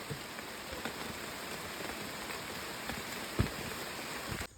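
Steady rain falls on a countryside ginger farm, a dense, even hiss with scattered individual drops and one sharper splash, cutting off abruptly at the end.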